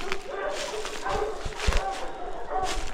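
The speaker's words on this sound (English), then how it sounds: "I think the neighborhood dogs know I'm up here." Several neighborhood dogs bark in the distance around a hillside cemetery in Chattaroy, West Virginia, with short scattered barks and yips under nearby talk and rustling.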